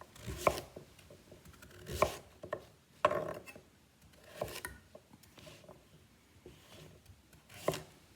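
A knife chops fresh celery root into large chunks on a board, a series of about six separate crisp, quiet cuts spaced unevenly with soft handling noises between them.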